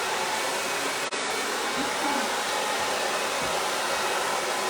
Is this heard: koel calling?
no